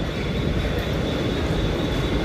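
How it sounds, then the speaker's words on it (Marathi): A Mumbai AC slow local train on the Harbour Line at CSMT station, heard as a steady, dense rumble and roar with a faint high whine, continuous and close throughout. "आपली 3:54ची CSMT Vashi AC slow local येत आहे"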